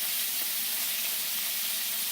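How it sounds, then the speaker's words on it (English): Three scallops searing largest side down in a hot pan give a steady, even sizzle with no talking, constant in level from start to finish. "I'm going to place the 3 scallops, and it's going to be on the largest side at the bottom, because we're only going to sear it from one side"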